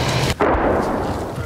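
Missiles strike Russian troops crossing a bridge in news footage, heard as a loud, continuous broadband blast roar with a brief dip in the middle and no speech.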